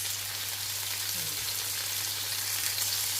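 Onion and tomato fry in a pan for ginataang monggo, a soft, even sizzle that stays steady and fairly quiet throughout, with no voices.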